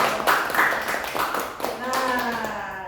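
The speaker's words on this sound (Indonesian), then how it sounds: "Oke, tepuk tangan dong." Audience at an anti-corruption legal education seminar clapping on cue, a short burst of hands with voices over the top, loud and close in the room.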